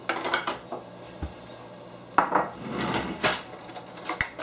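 A spoon scraping and clinking against a pan while a garlic and shallot topping is transferred into a dish, a series of close metallic taps and scrapes with brief gaps.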